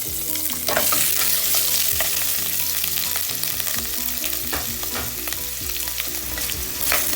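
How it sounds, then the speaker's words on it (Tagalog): Pork hocks sizzle loudly in a hot pan with garlic, a continuous crackling fry with occasional scraping stirs, no voices. "lalagay na natin ang pata."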